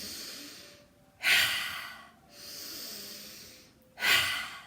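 Deep exhales during a yoga breathing exercise: two loud, forceful out-breaths with a clear, airy whoosh, each set between quieter, drawn-out breaths, close to the microphone.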